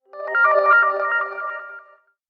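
A Huawei phone ringtone plays a bright, layered electronic melody for about two seconds, steady and fairly loud, then stops, with no voices over it.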